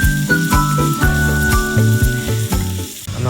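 Onions and curry leaves frying in hot oil for a Kerala-style chilli chicken roast, a loud, close, continuous sizzle with occasional stirring, and no voices.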